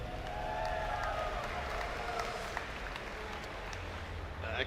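A crowd at a StarCraft match cheers and applauds for a Protoss player, with a steady roar of clapping and whoops that lasts several seconds.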